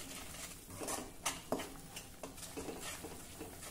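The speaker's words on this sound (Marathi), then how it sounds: "थोडं तेल सुटेपर्यंत हे परतून घेऊ।" Spiced masala with curd sautés in a pan with a quiet, soft sizzle. Several light clinks and scrapes of a spoon against the pan come through at irregular moments.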